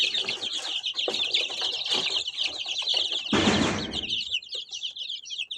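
Week-old incubator-hatched chicks chirping in a dense, continuous chorus of high peeps, fairly close, with a brief rustling thump partway through and clucking mixed in.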